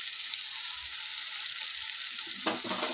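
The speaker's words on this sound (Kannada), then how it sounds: "ಅರಿಶಿನ ಹಾಕ್ಕೊಂಡು ಸ್ವಲ್ಪ ಮಿಕ್ಸ್ ಮಾಡ್ಕೊತೀನಿ" Bottle gourd sambar cooking with turmeric being stirred in, a steady close frying sizzle throughout with a brief louder scrape of stirring near the end, no voices.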